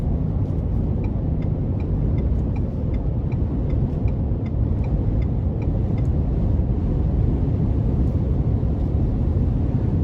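A 2021 Ford F-150 XLT with the 5.0 V8 drives steadily, its engine and road rumble heard from inside the cab, with a regular series of faint clicks or ticks running through.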